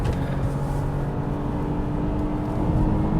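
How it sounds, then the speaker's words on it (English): A Toyota Camry TRD's naturally aspirated engine revs in sport mode, a steady, loud, droning growl that holds close and constant throughout. "if you're in sport mode, it at least lets you rev all the way to red line"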